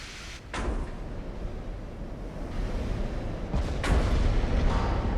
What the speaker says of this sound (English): Oh, we got a torpedo hit.